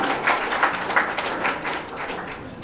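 An audience at a college cultural and sports valedictory function gives a short round of applause, scattered claps with a few distinct louder hits, moderate and steady.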